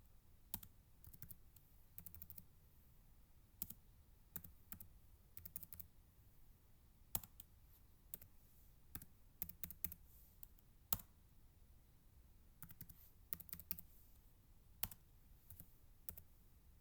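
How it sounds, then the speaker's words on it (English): Numbers being typed on a computer keyboard: quiet, sharp key clicks arriving in short irregular bursts with pauses between, close and otherwise silent. "I'm just simply typing in the numbers here."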